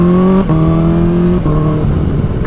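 A tuned Kawasaki H2 supercharged motorcycle making about 250 horsepower, revving hard and accelerating loud and close, with strong engine pitch climbing through short gear pulls and a brief dip between them.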